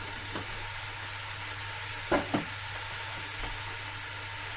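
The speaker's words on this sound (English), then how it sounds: "I'm gonna stir this around, give this a good stir" Cottage pie mince sauce, rich with tomato puree, being stirred in a pan: a steady soft sizzle with a few brief scraping strokes of the spoon.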